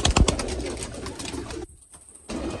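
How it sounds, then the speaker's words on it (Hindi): Close bird sounds at a pigeon breeder's setup, with soft pigeon coos and a few sharper calls at the start, then a brief quiet gap before the sound resumes. "ये इमामदीन कबूतर है जो गर्दन घुमा रहा है कोने में"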